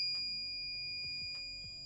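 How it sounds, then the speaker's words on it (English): A Label Next 120 automatic door beeps during its learn cycle with a steady high-pitched electronic tone that runs continuously, while soft mechanical clicks and low motor hum sit beneath it. "The door's going to beep."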